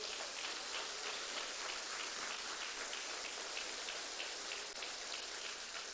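Dense, continuous applause from a church congregation at a family worship service, a steady hiss of many hands at a fairly faint, even level with no talk over it.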